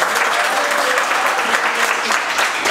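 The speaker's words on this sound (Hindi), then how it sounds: "ताली बजाइए।" A class audience at a live mobile-repair training session claps steadily throughout, a dense, even patter of many hands that stays close and loud, with a few voices faintly mixed in.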